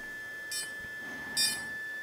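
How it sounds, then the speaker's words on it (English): Wingsland S6 drone powering up: two short, faint electronic beeps about a second apart over a quiet, steady tone, with no speech. "and some beeps"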